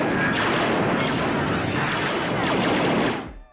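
A Star Wars blaster sound effect: a loud, dense burst of harsh crackling noise lasts about three seconds and then cuts off sharply.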